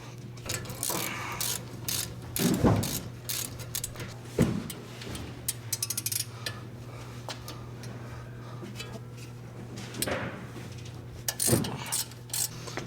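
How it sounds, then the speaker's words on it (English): A 7mm Allen key works the front brake caliper guide pins loose on a BMW E90 328i, giving close ratcheting and metallic clicks with a few louder clanks over steady low noise, and no talking. "with a 7mm Allen, you're going to remove the guide pins"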